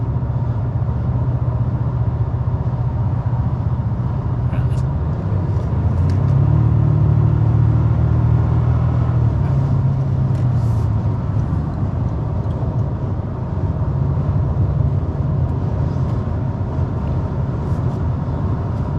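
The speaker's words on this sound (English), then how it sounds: "Just chugging along, very diesel-y like." Heard from inside the cabin, the engine of a 2024 Toyota Tacoma TRD Off-Road chugs at low RPM, near 1700 RPM under load, a loud, steady low rumble with a gruff drone that swells slightly midway.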